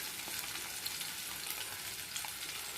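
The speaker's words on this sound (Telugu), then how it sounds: "వాటిని గోల్డెన్ ఫ్రై కలర్లో వచ్చేలాగా వేయించుకోవాలి ఫ్రెండ్స్." Prawn shells frying in oil until golden, a continuous bright crackling sizzle, close and even, with no voice.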